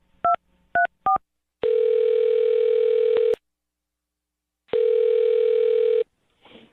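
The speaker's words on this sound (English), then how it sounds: "I'm going to dial her phone number right now" A telephone dials a number with three short touch-tone beeps, followed by two long ringback tones on the line, then silence and a faint rustle, all close and clear with no talk.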